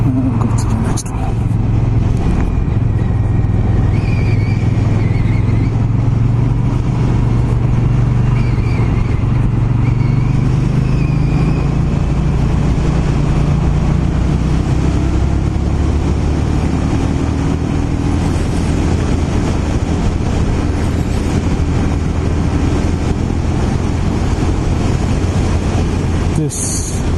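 Indian Scout Bobber motorcycle on the move, a loud continuous engine drone with rising and falling pitch as it accelerates, wind roar throughout, and the rider talking over it now and then.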